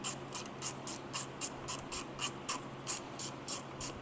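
Ratchet turning a long bolt during timing belt work on a car, a steady series of quick, regular clicks, close but quiet, over a faint background hum with no talking.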